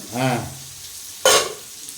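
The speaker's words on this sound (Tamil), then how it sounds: "உடையாம தானே கிண்டுறேன்" Fish curry is stirred carefully in a pan. A brief spoken phrase is followed by a single sudden burst of sizzling scrape that fades within a fraction of a second.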